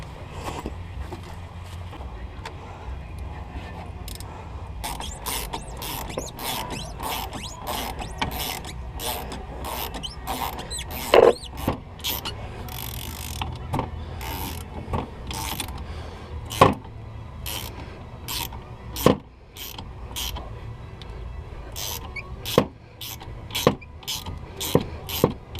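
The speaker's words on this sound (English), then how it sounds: "I'm going to take the two 3/8 Allen bolts out of the caliper" Allen bolts being worked out of a front brake caliper on a 2000 Pontiac Sunfire, heard as repeated sharp metallic clicks and ratcheting taps, irregularly spaced, close up over a low steady background hum.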